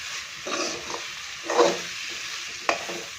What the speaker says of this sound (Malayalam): ഈ എണ്ണയൊന്ന് തെളിഞ്ഞു വന്ന് അത്രയും സമയം ഒന്ന് വഴറ്റിയെടുക്കാം